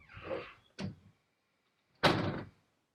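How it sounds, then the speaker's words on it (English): A door is pushed shut indoors, a soft swish of movement followed by a sharp, loud thump of the door closing, then a brief rustle afterward. "Can you guys shut the door and give me a minute?"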